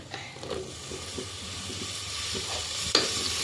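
Carrots and tomatoes with fenugreek sautéing in a pan, with a soft steady sizzle under scraping stirring strokes and a sharper clink near the end, close up with no voices.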